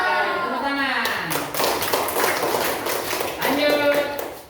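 A classroom of students claps hands together in a short burst of rapid, close applause, with voices speaking just before and after.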